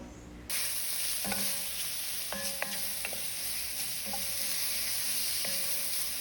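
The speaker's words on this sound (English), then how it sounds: "Then I'm going to add some butter or margarine, some salt to taste, and I'm going to mix that in." Butter or margarine and salt stirred into a sizzling pan of Caribbean sautéed pak choi and vegetables: a steady fry hiss with several clinks and scrapes of a utensil against the pan, close and unvoiced.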